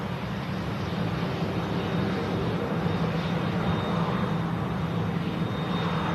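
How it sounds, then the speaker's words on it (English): Jet2 airliner rolling for takeoff on runway 23 left, a continuous broad jet-engine roar with a faint steady whine, fairly distant and unbroken throughout. "Jet2.com. Rolling on 2-3 left. Taking off."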